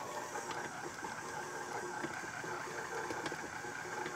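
A stand mixer on low speed with the paddle attachment mixes pretzel dough, giving a steady, faint motor whir and hum throughout, with no talk.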